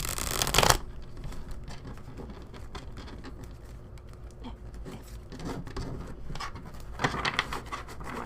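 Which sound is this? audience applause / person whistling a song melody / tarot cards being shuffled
tarot cards being shuffled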